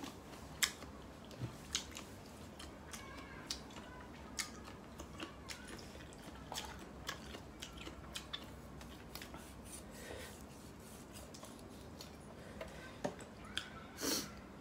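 Someone chewing crunchy grilled giant cuttlefish tentacles, with close, faint, irregular crunches and bites spread over a quiet stretch and a few sharper clicks, and no talking.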